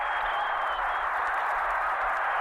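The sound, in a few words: crowd ovation for the New York Knicks at a basketball game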